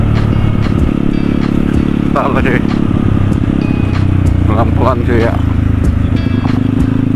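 A sport motorcycle engine runs loudly and steadily close by while riding on a road beside trucks, with a rider talking briefly over the drone.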